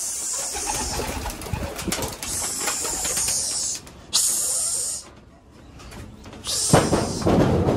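Pigeons in a loft make soft cooing calls mixed with bursts of hissy wing flutter and rustling, close by and moderately loud throughout.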